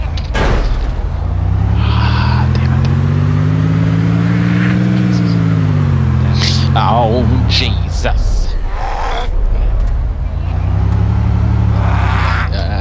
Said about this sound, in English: I legit just crashed a car